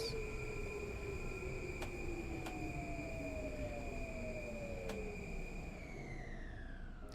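A Metro-North commuter train runs on the New York to Stamford line in the video game Train Sim World 6, giving a continuous rumbling roll with a steady tonal whine and a few sharp rail clicks.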